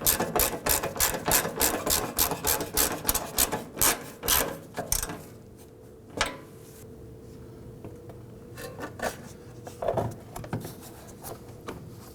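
A ratchet snugs down the nuts on a 2005-2009 Subaru Legacy 2.5L H4 fuel tank: a quick run of close, rhythmic raspy clicks for about five seconds, then a quieter stretch with a few scattered knocks.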